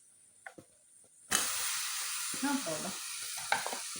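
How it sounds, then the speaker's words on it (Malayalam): Washed chicken pieces dropped into hot oil in a pan, bursting into a loud, steady sizzle and hiss after a few quiet clicks, with occasional stirring knocks; a voice speaks briefly at the start. "നമുക്കിനി ഇതിലോട്ട് കഴുകി വെച്ചിരിക്കുന്ന ചിക്കൻ ഇട്ട് കൊടുക്കാം."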